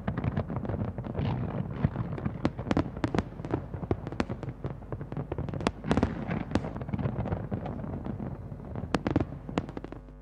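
New Year fireworks display in the United Arab Emirates: a dense, continuous barrage of booming bursts and sharp crackles, loud and overlapping throughout with no pauses.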